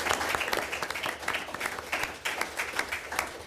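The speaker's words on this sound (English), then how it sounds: "So I think that deserves a round of applause." An audience at Senator Sherrod Brown's economic roundtable in New Hampshire breaks into steady applause, a dense patter of many hands clapping at moderate distance that carries on evenly for several seconds with no talking over it.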